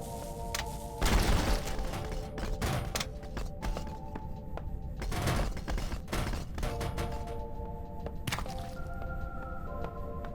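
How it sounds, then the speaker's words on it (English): Explosions from a remote detonation device in an indie sci-fi shooter game, several heavy booming blasts spaced a few seconds apart over a steady tonal background hum. "Remote detonation device activated. Explosion in 8 seconds."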